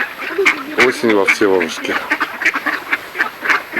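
Wild ducks on an autumn pond in Vsevolozhsk quack loudly and close in a burst of several calls, then keep up softer chattering, while someone speaks over them.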